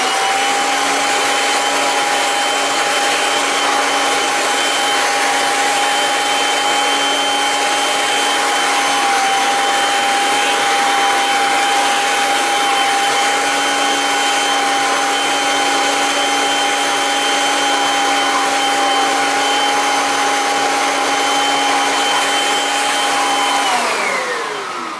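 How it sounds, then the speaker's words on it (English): A Kirby Avalir vacuum cleaner runs with its suction turned down, a loud, steady motor whine with a constant hum and airy rush that holds unchanged for about twenty-four seconds before beginning to wind down. "So just turn the suction down, and we're just going to vacuum the screen and not damage it."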